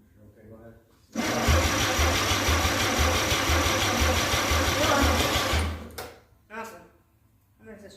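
A 261 straight six engine cranking without starting: a steady, loud, rhythmic churning runs for about four and a half seconds, then stops. People talk just before and after it.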